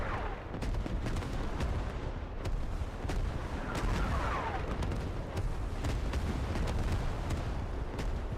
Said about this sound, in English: It is a creeping barrage clearing a path for this US push off the hab coming in from the southeast